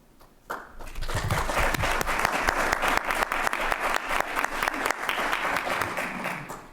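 An audience at a medical association's annual business meeting applauds steadily for several seconds, a dense, even burst of clapping from a sizable crowd in a hall, with no talk over it.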